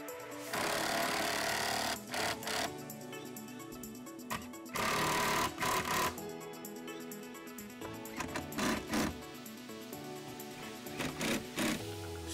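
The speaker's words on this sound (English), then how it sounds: "The sub can now be bolted down to the floor on each side" A power tool drives bolts securing a Kicker VSS substage powered subwoofer to the floor of a 2015-2019 Ford F150 or Super Duty truck, in repeated short whirring bursts over a steady background tone.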